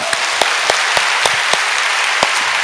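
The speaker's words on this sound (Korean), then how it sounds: "우리 중동부를 위해서 우리 한번 박수 한번 칩시다" A church congregation at a Friday night service claps together in slow, regular unison beats, each clap sharp and evenly spaced over a steady bed of crowd noise, fairly loud and close.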